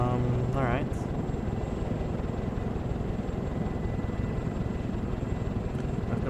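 A military helicopter flies in the video game ArmA 2, its steady rotor drone running continuously at close range under game sounds.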